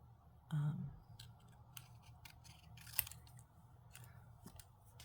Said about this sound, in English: I'm nervous going into corners with scissors